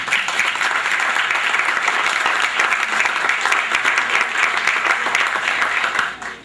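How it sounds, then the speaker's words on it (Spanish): An audience at a formal ceremony gives sustained applause, dense and even clapping that carries on for about six seconds before cutting off abruptly. "Luisa Álvarez y Emilia Vela González, para quien pide un aplauso, por favor."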